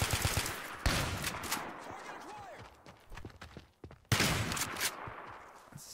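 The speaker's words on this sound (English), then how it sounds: "Turning into a shotgun duel right now." Shotgun blasts in a video game duel, with several sharp booming reports spaced apart amid other in-game noise and scattered distant shots, fairly loud and close.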